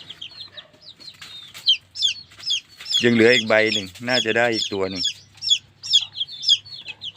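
White black-tailed bantam chickens, a few days old and kept with home-raised fowl, peep and cheep in high repeated bursts close by, while someone talks over them in the middle.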